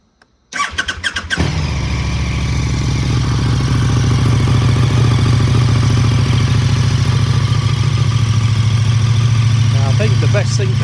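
A KTM 1290 Superduke RR fitted with a Spark Konix Evo titanium exhaust fires up with a sharp burst, then settles into a loud, deep, steady idle rumble close by that holds for the rest of the clip.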